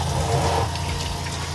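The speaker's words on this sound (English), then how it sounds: "pull down faucet there," Water gushes steadily from a pull-down kitchen faucet inside a Sprinter van, fed by the water pump, a close, even splashing rush with no talking.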